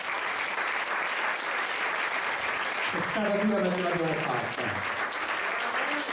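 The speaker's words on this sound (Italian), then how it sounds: "Un altro applauso, bravissimo" Theatre audience applause runs steadily throughout, with a voice speaking over it partway through.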